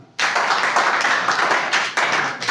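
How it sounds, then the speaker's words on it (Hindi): An audience gives loud, rapid applause for a man, dense clapping that bursts in suddenly and holds steady, close and full, with no speech over it. "उस आदमी के लिए जोरदार ताली"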